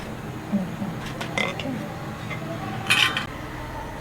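Plates and cutlery clink and clatter as food is served out onto a terrace, with a few scattered metallic knocks and one brighter clink, while people talk over the handling.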